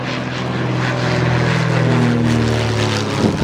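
A propeller airplane drones overhead in a historical film scene, a loud sustained engine hum that swells slightly and holds steady with no voices.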